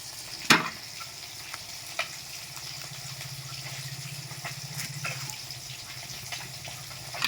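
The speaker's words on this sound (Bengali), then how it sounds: "ওইদিকে মাছটা ভাজা হবে" Pieces of rohu fish sizzle in a pan for a fish curry with cauliflower, a steady low crackle broken by a sharp clack near the start and a few soft knocks, with no talking.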